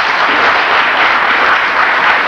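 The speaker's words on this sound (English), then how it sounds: "Let's give a round of applause for Edwina Lapa" A symposium audience gives a round of applause for Edwina Lapa, producing a continuous, even roar of many hands clapping with no voices above it throughout the short stretch.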